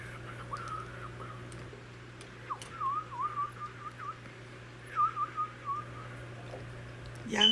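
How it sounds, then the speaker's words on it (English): A person whistles a wavering, tentative melody in short phrases, moderately close with a faint steady hum underneath and brief pauses between the bursts. "Hey, whistling."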